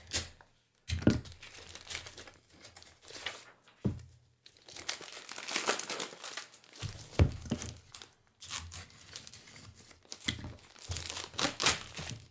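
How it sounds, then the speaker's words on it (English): A razor knife slicing open a cardboard shipping package of comic books, close-up bursts of scraping, tearing and crinkling broken by short silent pauses. "Razor knife does a good job of making short work"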